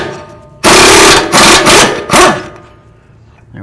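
An 18 mm tool breaks loose the bolt joining the knuckle to the front strut on a 2005-14 Ford Mustang, giving three loud, close, rough grinding bursts over about two seconds, then quiet.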